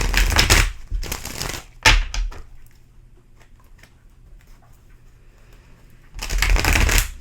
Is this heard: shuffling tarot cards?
yes